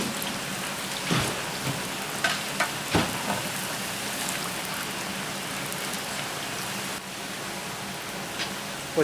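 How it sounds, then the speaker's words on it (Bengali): About four kilos of potatoes fry in oil for a beef kacchi, giving a steady broadband sizzle with scattered pops and crackles that runs unbroken throughout. "আলুগুলো কিন্তু ভেজে নিচ্ছেন এখানে প্রায় চার কেজি আলু আছে"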